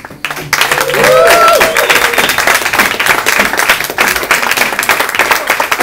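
Steady applause from a crowd, broad clapping filling the clip, with a brief whistle-like tone near the start.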